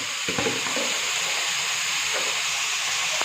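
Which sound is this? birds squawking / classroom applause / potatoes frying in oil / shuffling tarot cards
potatoes frying in oil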